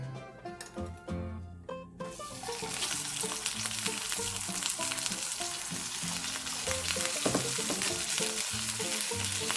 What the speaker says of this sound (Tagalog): Pwede po kasing lutuin ang frozen na burger directly to the pan.